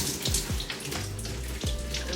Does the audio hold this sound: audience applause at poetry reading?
no